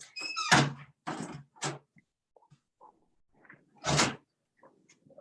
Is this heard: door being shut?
yes